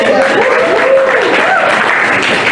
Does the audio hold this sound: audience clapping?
yes